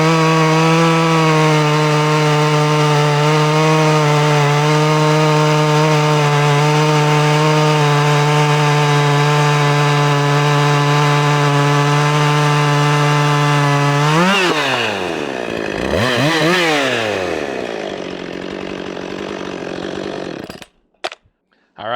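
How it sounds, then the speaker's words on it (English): Husqvarna 564XP 60cc chainsaw held at high revs with a loud, steady whine, then dipping and surging as it bites into wood, bogging and recovering through the cut before stopping. "A little bit of 50, 60cc chainsaw action."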